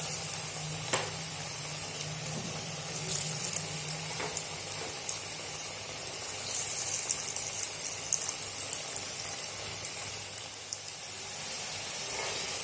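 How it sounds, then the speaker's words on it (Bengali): Potato French fries fry in oil on a gas stove over low to medium flame, giving a steady soft sizzle and hiss with scattered pops and small clicks throughout, close by with no talking. "গ্যাসের ফ্লেমটা লো টু মিডিয়ামে রেখে এগুলোকে ভেজে নিতে হবে।"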